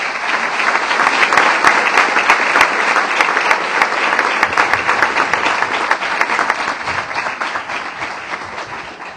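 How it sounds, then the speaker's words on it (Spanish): Community audience applauding a priest at a human rights day gathering: sustained dense clapping from many hands, loud and steady for the whole stretch, with faint crowd murmur beneath. "Como mensaje de acompañamiento de toda la comunidad aquí presente, un aplauso para el Padre Antún Ramos."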